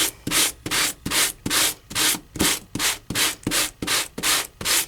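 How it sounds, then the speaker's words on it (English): A Sand It sanding block scrubs back and forth over embossed paper, about a dozen rhythmic rasping strokes, close and regular, with no talk. "So I'm going to take my Sand It gadget, and I'm going to give this a nice little sand."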